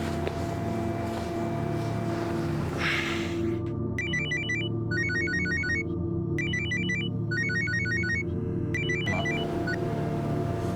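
A mobile phone ringtone for an incoming call chirps in repeated bursts of bright electronic tones over a low indoor hum, pausing briefly between cycles.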